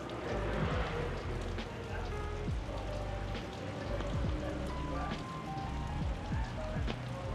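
Rain falls steadily outdoors at Holley Ford Fest 2024, a car show where Mustangs sit under tents, giving a dense continuous patter with occasional sharper drops and some indistinct background voices.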